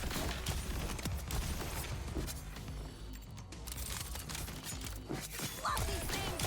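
Dense, continuous explosions and gunfire crash through a Borderlands 4 firefight on hard difficulty, loud and chaotic throughout with no pauses.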